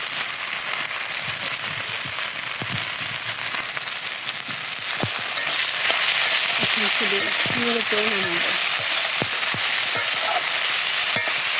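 Continuous loud sizzling of leafy greens and chillies frying in hot oil, with scattered pops and crackles and some stirring clatter.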